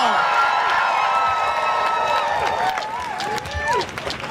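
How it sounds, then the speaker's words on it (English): A campus rally crowd at a Temple University graduate student union strike in Philadelphia cheers and applauds a co-MC, with sustained clapping, whoops and shouts that stay loud throughout and swell again near the end. "Let's hear a round of applause."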